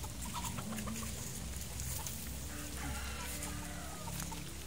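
White Albany gamefowl chickens on a farm cluck and murmur steadily, with a dense, continuous texture of bird sounds throughout, fairly close, with no talking.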